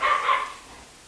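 A single short dog bark, fairly close and moderately loud, with a quick second yip right after it, then fading into quiet.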